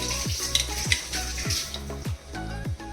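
Mustard seeds crackle and sizzle in hot oil as tempering for tomato chutney, a steady close fry broken by sharp pops and repeated soft stirring strokes, with no talking.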